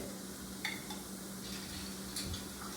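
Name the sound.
chopped tomatoes added to browned mushrooms sizzling in skillet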